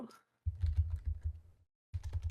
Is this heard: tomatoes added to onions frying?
no